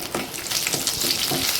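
Green chilies fry in a spoonful of hot oil in a pan, giving a loud, close, continuous crackling sizzle with bursts of spattering.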